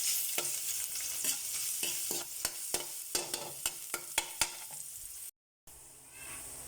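Garlic sautéing in a hot pan, a continuous close sizzle punctuated by a rapid series of sharp spatula clicks and scrapes, then a brief cut before the frying hiss resumes, no talking.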